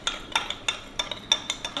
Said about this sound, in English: Now I'm going to mix until all the sugar will combine, all the sugar dissolve.